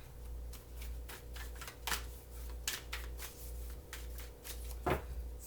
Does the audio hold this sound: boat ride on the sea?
no